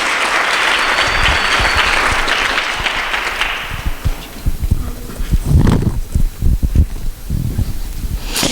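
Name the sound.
audience applause welcoming a speaker at a gala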